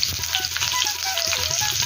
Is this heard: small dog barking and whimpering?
no